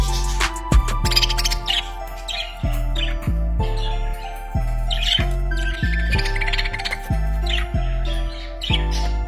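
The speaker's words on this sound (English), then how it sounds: "Lovebirds are small parrot species known for their affectionate and social behavior." Small lovebird parrots squawk and chirp in bright, rapid bursts throughout, fairly close, over a steady bed of rhythmic background music.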